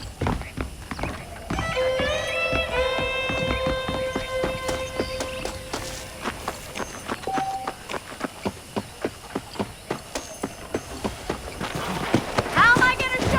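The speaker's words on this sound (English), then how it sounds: "The horses are saddled up over here." A saddled horse on a ranch in Red Dead Redemption whinnies early on, then its hooves clip-clop in a steady, close rhythm that grows more distinct and evenly spaced toward the end.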